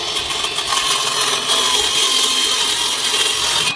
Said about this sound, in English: when you're cutting with a skill saw, the bottom is a much nicer cut than the top.